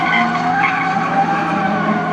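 A drifting BMW M3 fitted with a 3-litre Toyota Supra V6 turbo engine, rated at 500 horsepower, screams with loud continuous tire squeal over a sustained engine roar, close and unbroken throughout.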